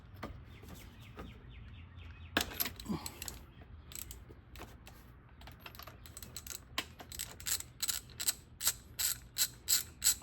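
A ratchet fitted with a 17mm deep well socket clicks in quick, uneven bursts while working on a Honda Accord engine, and the clicking grows louder and more regular toward the end.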